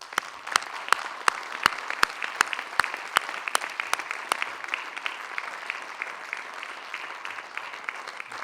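Applause at a municipal council installation meeting, with a few sharp, evenly spaced claps standing out from the warm, steady clapping of the room for most of the clip.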